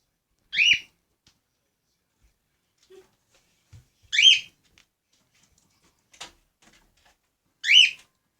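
A pet bird sings indoors in short, bright whistled bursts, three clear phrases spaced a few seconds apart with near silence between, close and fairly loud, plus a faint softer chirp in the gaps.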